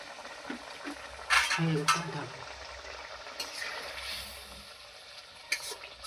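A fish curry of bhola fish cooks in a pan as raw oil and coriander leaves go in, giving a soft sizzle under a few clinks and scrapes of stirring.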